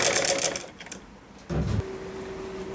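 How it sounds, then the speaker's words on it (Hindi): A sewing machine stitching a pocket onto a salwar gives a short burst of rapid stitching after some rustling handling noises, then a faint hum. "वहाँ से मैं अब सिलाई शुरू करूँगी इस तरह से"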